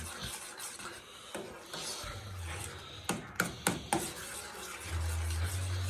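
A spoon stirring beans in a pot while chicken nachos are made, close and quiet, with soft scraping rubs and a few sharper knocks against the pot.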